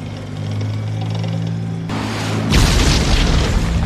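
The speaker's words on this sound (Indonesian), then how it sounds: "sebuah tembakan menghentikan tank itu, dan Kapten Miller beserta timnya" A tank engine rumbles before a shot hits it with a sudden loud blast, followed by a heavy, roaring explosion that fills the last seconds, from the war film Saving Private Ryan.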